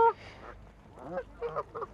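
Pet birds honk in a few short, nasal calls spread across two quiet seconds, with a sharp sound at the start and soft, scattered noises between the calls.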